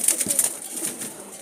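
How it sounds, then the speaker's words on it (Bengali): A male wild Jalali pigeon, released from the hand, flaps its wings close by and gives soft, repeated coos. "এই যে কবুতরটা ছেড়ে দেখাচ্ছি আর কি।"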